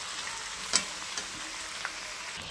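Chicken is sautéed with ground ginger, chili, garlic and onion paste for a red curry, giving a faint, steady sizzle broken by a few light scrapes and taps of a spatula, close by with no talking.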